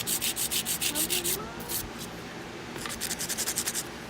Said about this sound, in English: I'm just using my 80 grit to sharpen up her sides after that last coat of gel polish.